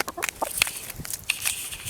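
Chickens clucking nearby in short, scattered bursts of sharp calls over about two seconds, with faint background rustling and no speech.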